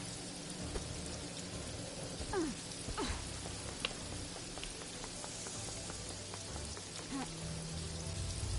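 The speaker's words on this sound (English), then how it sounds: "Those are some big drops of rain." Heavy tropical rain in Paradise Killer, a dense steady patter of large drops on surfaces, moderately quiet and continuous, with a few scattered brighter splashes and chirps over it.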